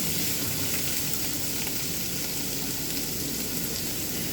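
Fish curry with curry leaves being stirred in a frying pan, giving a steady, dense sizzle and bubbling hiss that holds evenly throughout at close range, with no voices.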